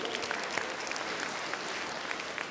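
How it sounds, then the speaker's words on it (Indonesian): A live seminar audience breaks into applause, a steady wash of many hands clapping at moderate distance with no voice over it. "Kita berikan tepuk tangan dulu."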